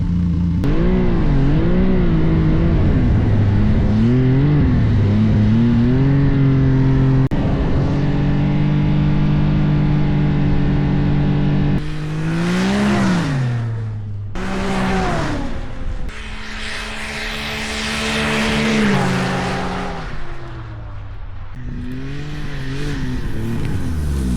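A Ski-Doo 1200 snowmobile with an aftermarket MBRP muffler idles with a throaty, rumbling exhaust, then revs hard in several rising and falling bursts, close and loud.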